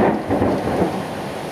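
Heavy rain pours down steadily with a low rumble like distant thunder underneath, loud and continuous with no voices.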